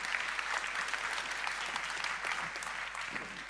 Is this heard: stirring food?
no